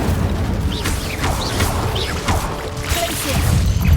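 An Incendio fire spell in Hogwarts Legacy bursts inside a cave with whooshing flame sweeps, cracks and bangs, several rising swishes layered over a constant rumbling roar, with no voices.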